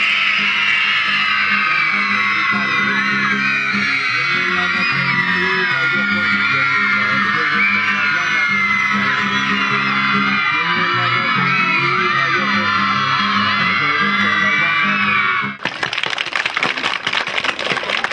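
Festival audience at a cultural puppet show shouting, screaming and whooping together in a loud, sustained roar that runs unbroken for about fifteen seconds before cutting to a brief burst of noise.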